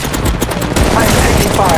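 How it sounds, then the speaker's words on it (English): Loud, dense gunfire in the Apex Legends battle royale, rapid overlapping shots and bursts filling the moment up close, with game sounds behind. "I'm taking fire."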